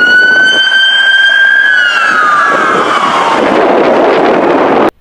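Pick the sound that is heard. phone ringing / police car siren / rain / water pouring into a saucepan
police car siren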